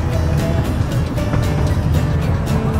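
Steam railway engine running on a heritage line after taking on water at New Romney, a steady loud low rumble with rhythmic chuffing and rattling throughout, close and continuous with no talk.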